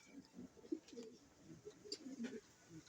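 Pigeons coo softly in a loft, a steady run of low, murmuring calls repeating close by throughout.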